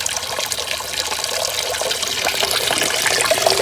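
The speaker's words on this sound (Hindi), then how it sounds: "ये थोड़ा थोड़ा पानी गिर रहा है इस खाल में से" Water trickles steadily in a continuous splashing patter as it drops from a small farm channel outdoors, close and even, with no talk.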